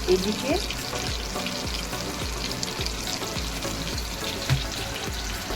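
Katla fish fries in a pan of hot oil, a steady close sizzle with crackling pops running throughout, with a few faint clinks near the start.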